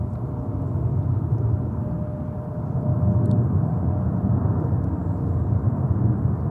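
Air Serbia Airbus A330-200 in special livery arriving at New York JFK on a winter day, a steady, fairly loud low jet roar that swells slightly midway and holds throughout.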